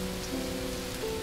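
Rain falls steadily in a brief, continuous wash, with faint tones sounding underneath.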